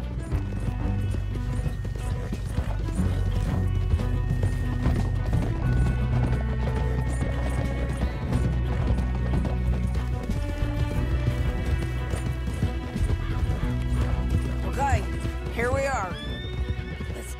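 Red Dead Redemption 2 horses gallop with steady hoofbeats over a dense background score. A horse whinnies near the end, and voices are heard.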